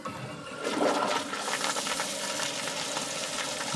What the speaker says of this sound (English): I'm also going to add one that I like for the toilet flush